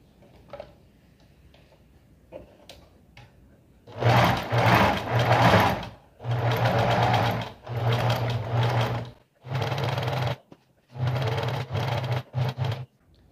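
A sewing machine runs in five loud bursts of rapid stitching on fabric for a vintage apron, separated by short pauses with faint handling clicks.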